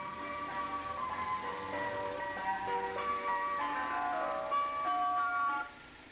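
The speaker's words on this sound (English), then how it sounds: "The driver plays a tune to let you know he's ready to sell his ice cream." An ice cream van's jingly melody plays steadily, bright chiming notes repeating a simple tune, then cuts off near the end.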